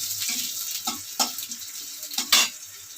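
Onions fry in a little oil in a pan, a continuous bright sizzle broken by several short louder bursts and scrapes as they are stirred, close up and with no voices.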